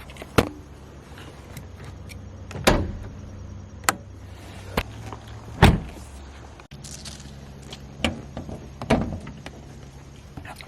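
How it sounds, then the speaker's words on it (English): Someone climbs into a Lexus SC300 and pops the hood: a series of close, sharp thunks and clicks from doors and latches, spaced irregularly over a quiet low hum, with no talking. "I'm gonna get in the car, pop the hood"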